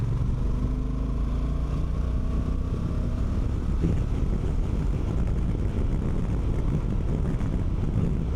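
Steady, roaring wind noise and low buffeting on a 2025 Honda NT1100 motorcycle at speed with the windshield in its mid position, a broad continuous rush with engine drone beneath, no voices.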